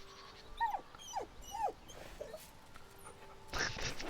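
A dog in Baldur's Gate 3 whines beside its dead owner's corpse, giving several rising, high-pitched whimpers in a row, then a short burst of louder noise near the end.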